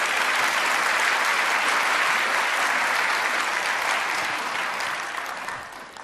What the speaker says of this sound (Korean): 우리 큰 박수로 환영하며 말씀을 듣도록 하겠습니다.